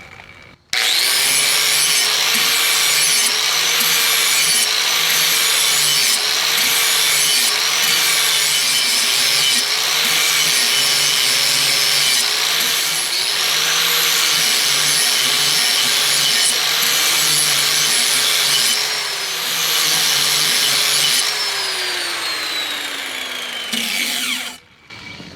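An angle grinder sharpens a steel lawnmower blade in loud, continuous high-pitched grinding with a whining motor tone that rises and dips in pitch as it works, then spins down near the end.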